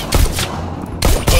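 Gunfire in the VR shooter Bullet Train, played with Oculus Touch controllers: loud, close shots crack in a quick cluster, with a short lull before another burst.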